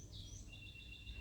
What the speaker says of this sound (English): apart from the birds from the neighbor